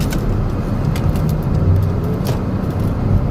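A car drives through traffic, its engine and tyre roar steady and close, with brief whooshes of other vehicles passing by.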